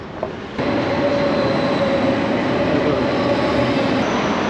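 A train pulls out of Vienna bound for Munich, starting with a sudden rise into a loud, steady interior rumble with faint wheel squeal and rail noise, with no talking.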